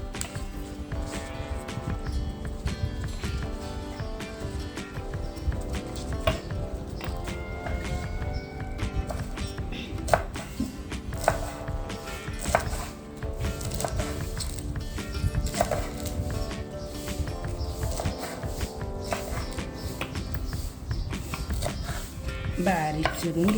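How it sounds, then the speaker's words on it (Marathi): Rolled taro leaves are finely chopped with a knife, giving sparse, crisp blade taps against the board under steady background music. "ही पानं अशी वळकटी करून घ्यायची आणि बारीक चिरून घ्यायची"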